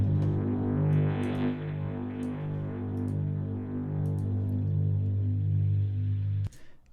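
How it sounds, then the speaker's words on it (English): Buzzing mains-like hum from the pressed end of an amped-up guitar cable drones steadily with throbbing harmonics for several seconds, then cuts off with a sharp click. "basically this is literally the sound of me"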